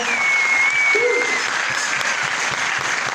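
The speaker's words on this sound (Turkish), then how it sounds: "Bütün gönlümüze ayrı bir alkış alalım mı?" An audience at a live event applauds steadily, a loud dense wash of clapping sustained throughout without pause.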